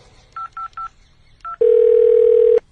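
Telephone keypad tones: four short evenly spaced beeps, a pause, one more beep, then a long steady ringback-style tone lasting about a second, loud and close.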